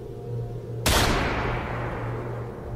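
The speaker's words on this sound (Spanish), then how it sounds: "Un disparo se escuchó a lo lejos, en lo profundo del bosque." A single gunshot rings out far off deep in a forest, a sharp crack followed by a long rolling echo that fades slowly over steady low background hum.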